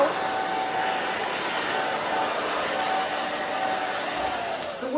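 A hair dryer blows steadily on a short pixie cut, a continuous close whooshing motor hum with a faint whine, staying even in level for the whole stretch with no talking.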